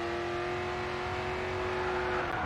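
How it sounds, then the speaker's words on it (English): A race car engine in the driving game GRID 2 holds a loud, sustained high whine while drifting through a corner, with steady tire and road noise beneath and no speech. "You'll need to get back on the gas to carry the drift."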